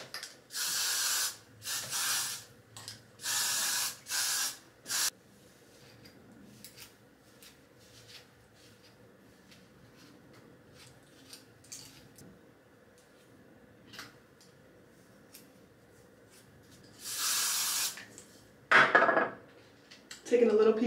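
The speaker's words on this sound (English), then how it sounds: "Take some hairspray." Hairspray is sprayed onto hair in several short, close hissing bursts at the start. A quieter stretch of faint handling noise follows, then a longer spray burst near the end.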